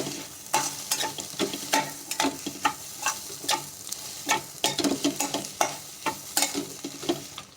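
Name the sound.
sautéing mutton with garam masala in a pan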